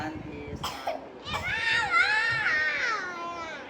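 Two short, sharp coughs sound up close, followed by a drawn-out wavering vocal sound from the same person.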